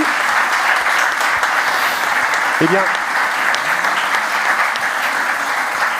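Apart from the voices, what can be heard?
audience applause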